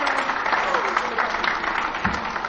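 An audience on a French TV entertainment show applauds in a continuous, moderately loud patter of clapping, with a low thump near the end.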